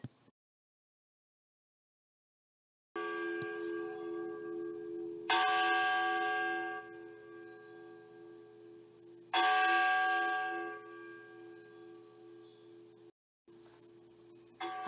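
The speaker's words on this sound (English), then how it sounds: "The bell invites me." A bell rings out in a few sustained, resonant strokes, each clang followed by a long ringing decay, with silence at the start and no talk over it.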